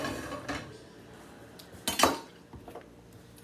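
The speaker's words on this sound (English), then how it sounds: "I'm gonna put the onions in the pan." Chopped onions tipped into a pan land with a brief clatter and clink of metal, set in a quiet kitchen with faint handling noises before and after.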